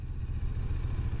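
A motorcycle engine runs with a low, steady rumble during a riding test in Maisons-Alfort, with the bike coasting gently. The sound is close and continuous, with a slight clattering texture.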